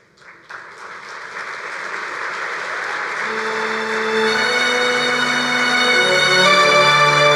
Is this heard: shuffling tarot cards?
no